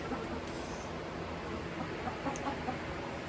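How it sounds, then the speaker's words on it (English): Hens murmur and cluck softly inside their coop, faint scattered clucks over a steady background hum with no talking. "here's where the chickens live."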